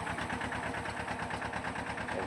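A tractor engine runs steadily while pulling a seed drill sowing a farm field, a continuous loud rumble with a regular pulsing throb throughout, no one talking.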